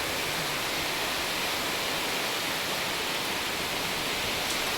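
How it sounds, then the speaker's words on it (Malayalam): Heavy rain pouring steadily outside a house, a dense, even roar of falling water that stays constant and loud throughout with no voices. "നല്ല മഴയാണ് ഗൈസ്"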